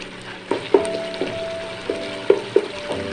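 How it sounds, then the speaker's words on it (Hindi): A spoon stirs and presses tomatoes frying in a pot for Bannu beef pulao, giving a steady sizzle broken by about eight sharp scraping knocks against the pot, close and fairly loud with no talk. "आप चम्मच से इस तरह थोड़ा सा फूटा करें ताकि टमाटर हमारे अच्छे तरीके से इसमें बिल्कुल हल हो जाए"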